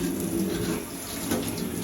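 Hot water runs steadily from a tap into a sink while a freshly polished steel sheet is rinsed off, a close, continuous splashing hiss with no talk over it.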